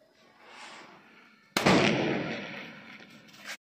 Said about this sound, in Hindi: अरे वसुन अपना जो स्काई शॉट था वो छोड़ा है।